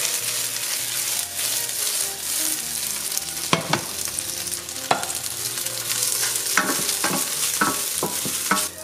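Plant-based beef hitting hot oil with ginger and garlic, a loud steady sizzle of frying with stirring scrapes and a few sharp utensil clicks against the pan, close up and without talk.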